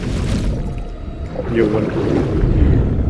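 Muffled underwater ambience in Fortnite, a low murky rumble with bubbling swells, heard while the player is submerged in the game.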